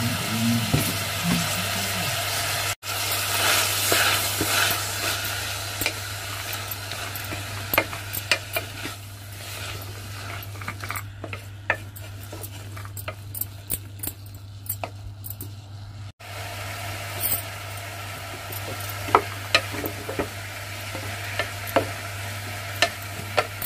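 Tomato, coriander leaves and coconut sizzle steadily in hot oil in a pan for a vegetable pulao, with a spoon scraping and stirring throughout and occasional sharper clinks, close and fairly loud.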